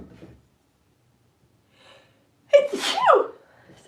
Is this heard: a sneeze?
yes